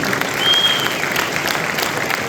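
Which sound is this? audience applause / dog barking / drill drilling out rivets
audience applause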